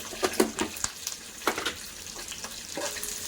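Mint and coriander leaves fry in oil for a chicken curry, giving an irregular crackling sizzle with light stirring clatter, close and fairly quiet.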